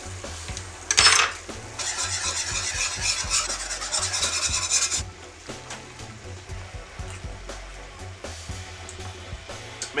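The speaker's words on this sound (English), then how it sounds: "All of this oil on the top is going to come together once I start whisking them." Metal whisk scraping steadily through a braised pork pan sauce as butter and oil emulsify, a busy scratchy rasp that starts after a sharp clink and lasts about four seconds before easing into quieter kitchen clatter.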